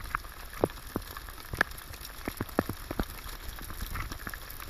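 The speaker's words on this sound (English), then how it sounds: "Hailstorm." Hail patters on a lake and boat during a fishing trip in British Columbia, Canada, with scattered sharp ticks and taps over a soft, steady hiss of falling ice and rain.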